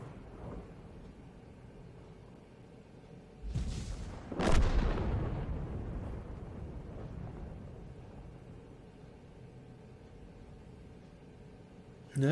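Tank cannon rounds fired in World of Tanks: one heavy, booming shot with a long rumbling decay that fades over several seconds, preceded by a duller thud, with low background noise.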